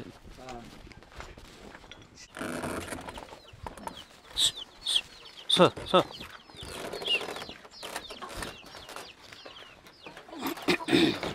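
Chickens cluck and chirp in scattered bursts close by, with footsteps and people talking in the background.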